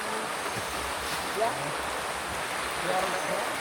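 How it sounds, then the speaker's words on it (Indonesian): Heavy, sudden rain pours steadily on a trail near Ranu Kumbolo on Mount Semeru, making a dense, even hiss that fills the whole stretch at moderate loudness. "Hujan deras banget guys."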